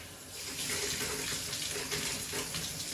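Water runs steadily from a shower hose sprayer on a bathtub faucet, a continuous broadband hiss and splash close by with no talking.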